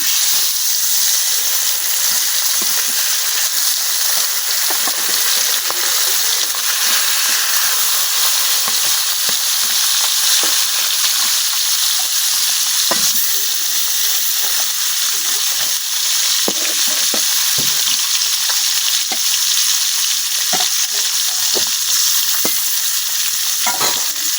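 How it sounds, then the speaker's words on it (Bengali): Khoilla fish pieces frying in hot oil in a pan, a loud, steady, close sizzle that hisses without pause throughout, with no voices. "এখন বাকি যে মাছগুলো এগুলো ভাজে নিয়ে,"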